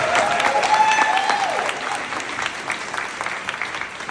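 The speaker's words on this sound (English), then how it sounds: "How about another round of applause for Val Long?" Crowd applause at an East Providence Education Association rally, steady and full for about four seconds with a few whistles near the start, fading slightly toward the end.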